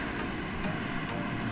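A Ryanair airliner passes overhead near El Médano, Tenerife, a steady broad engine roar filling the air throughout, with no voices.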